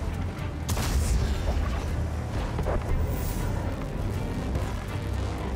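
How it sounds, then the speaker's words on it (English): Tank combat explosions from the video game World of Tanks land as a deep boom and then rumbling artillery-like blasts, loud and continuous, with no talk. "Explosions!"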